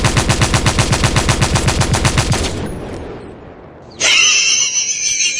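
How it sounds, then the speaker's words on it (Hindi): Rapid, loud burst of automatic gunfire as a sound effect, a steady rattling stream that cuts off after about two and a half seconds, followed by a brief lull and then a sharp high-pitched whinnying sound. "गोलियां इधर से इधर, गोलियां गोलियां गोलियां चलेगी आज"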